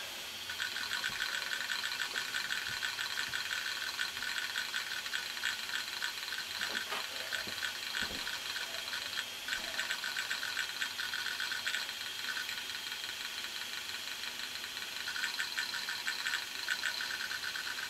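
Inside an open, working hard drive, the heads seek with a faint, steady rattle and whir, close by, broken by a few soft ticks.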